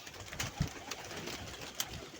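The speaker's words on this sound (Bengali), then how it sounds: "তো কবুতর প্রচুর রোদ প্রচণ্ড রোদ তো খাবার দিই" Pigeons coo faintly in the background in hot sun, soft low calls under a hissy outdoor ambience with a couple of brief taps.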